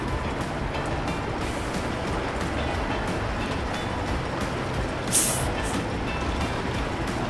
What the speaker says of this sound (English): But let's come straight into what looks to be a side friction coaster.